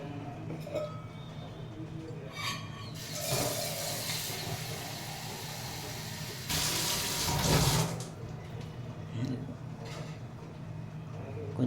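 Water running from a kitchen tap while cooking sambar, two short gushing bursts close by amid soft kitchen clinks and background noise.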